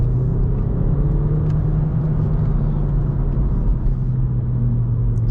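Inside a BMW F21 1 Series joining a dual carriageway, the engine hums loud and steady with a low rumble and a rising tonal drone as it pulls harder, with no talking.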